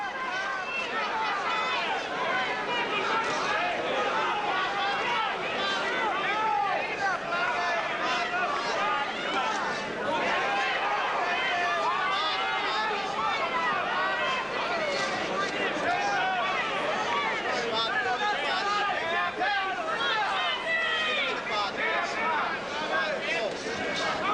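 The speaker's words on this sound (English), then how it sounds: "You can hear the crowd" A boxing arena crowd roars in a steady, continuous wash of cheering and hubbub, with a commentator talking over it throughout.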